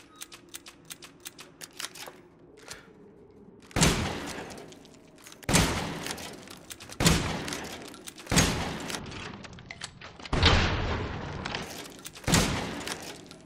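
Series of seven loud, booming blasts from the W870 pump-action shotgun in Resident Evil Village, each followed by a decaying tail and spaced about one and a half to two seconds apart, after a stretch of quieter clicking and handling.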